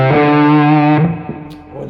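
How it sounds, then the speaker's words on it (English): Electric guitar through an obsessive drive pedal into a Lone Star amp model on a Quad Cortex, a thick, sustained distorted lead note ringing for about a second before quieter, shorter notes follow. "So I have an option with the obsessive drive going into the Lone Star,"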